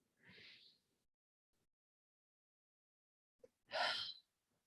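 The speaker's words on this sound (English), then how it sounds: "Let's take a deep breath in." Two deep, breathy inhalations taken slowly in a quiet room, the second one louder and fuller, separated by a few seconds of silence.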